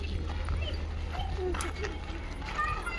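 A dog yips and whimpers briefly amid people talking and a low steady background hum.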